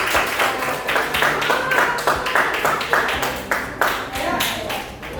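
A primary school class clapping hands together during an English lesson, a lively burst of many small hands with rhythmic patches, fairly close and continuous, briefly thinning before picking back up.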